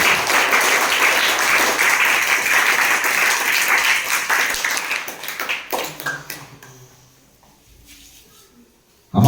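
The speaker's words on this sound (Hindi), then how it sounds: "संयुक्त रूप से आयोजित मॉर्निंग मैथ असेंबली की शुरुआत जोरदार तालियों के साथ हुई।" Loud, dense applause fills a school morning math assembly for about five seconds, then thins into scattered claps and fades to near silence before a sudden sound at the end.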